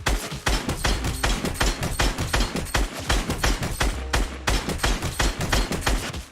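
Gunfire from a weapon in the video game Fortnite: a steady string of sharp, loud shots repeating rapidly and evenly for several seconds, with no talk over them.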